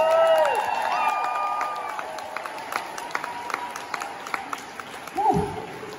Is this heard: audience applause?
yes